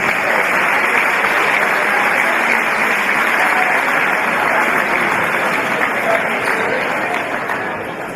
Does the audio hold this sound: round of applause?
yes